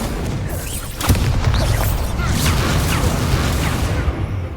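A Confringo explosive spell blast in the Hogwarts Legacy video game: a sharp booming impact followed by a dense, roaring rumble that stays loud and sustained to the end.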